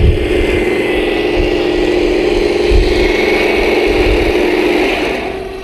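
A Heng Long M4A3 Sherman RC airsoft tank with exhaust smoke runs its simulated engine sound, a loud steady droning hum with faint low thumps, easing down and fading slightly near the end.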